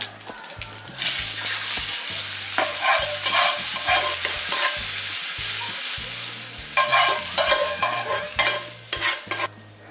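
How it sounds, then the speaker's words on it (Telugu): A sizzling tempering is stirred into raw eggplant tamarind stew, giving a loud, close frying hiss with repeated stirring and scraping clatter throughout and a brief burst of crackling toward the end. "పోపు చిటపట్లాడేంత వరకు వేయించుకొని పులుసులో వేసుకోండి"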